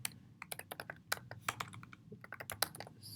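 Quick, uneven keystrokes on a computer keyboard while writing code, a dense run of close, fairly quiet clicks and taps with short pauses.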